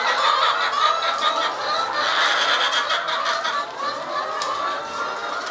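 Laying hens on a chicken farm of about two hundred birds cluck steadily, a dense overlapping chorus of close, fairly loud calls with no talking.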